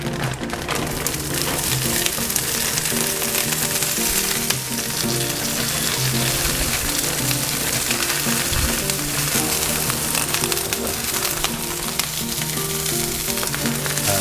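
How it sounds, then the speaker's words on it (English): Green beans and roasted red peppers sauté in a hot pan with steady, dense sizzling and occasional stirring scrapes, continuous and close, with no voices. "Let me saute the green beans and the roasted red peppers."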